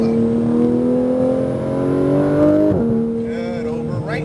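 A car on a driving course at Speed Vegas holds a steady engine drone under light throttle, pitch rising gradually, then dips briefly as the car turns and settles, loud and close from inside the cabin.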